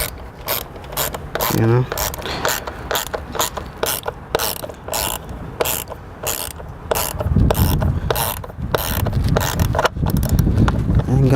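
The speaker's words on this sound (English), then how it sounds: "we're almost done tightening up the last screw" Ratchet clicking in rapid bursts as it tightens an air filter housing screw on a Dodge Charger, close and fairly loud, with brief speech mixed in.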